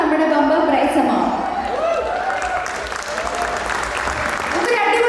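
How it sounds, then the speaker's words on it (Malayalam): Loud, sustained applause from a crowd at a Vishu festival celebration as a prize winner comes forward, continuous clapping throughout with voices mixed in. "നമുക്കൊരു അടിപൊളി കൈയടി കൊടുക്കാം മേഘ്ന രവിക്ക്."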